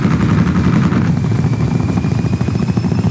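A helicopter in Call of Duty 4 thumps overhead, its rotor beating in a fast steady rhythm under a whining engine, loud and close throughout a short burst with no voices.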